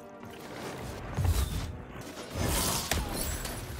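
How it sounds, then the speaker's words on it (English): Mechanical clanks and a whooshing burst, then a crashing boom with rattling debris, cannon fire in the video game Lost in Random, with no talking. "Fire the cannon."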